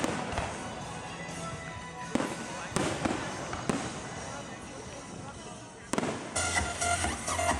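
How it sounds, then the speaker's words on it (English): Repeated fireworks crackle and pop with sharp bangs, loud and close, blending with crowd noise and voices. "Fireworks."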